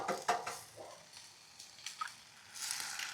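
Vegetables, including tomatoes, sizzle in a very hot pan while being stirred, giving soft bursts of frying crackle and scraping that swell near the end, with no talking.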